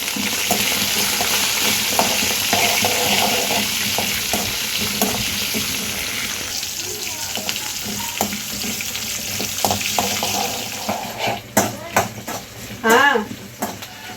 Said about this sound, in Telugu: చేసి పెట్టుకున్న పచ్చిమిరపకాయలు ఇవైతే వేసేసుకుంటున్నాం